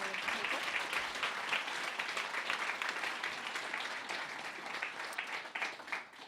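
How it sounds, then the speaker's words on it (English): Sustained audience applause from about 150 people at a community foundation impact fund showcase, a dense steady wash of clapping holding at an even level throughout before easing slightly near the end. "can we please have another round of applause for all of the people?"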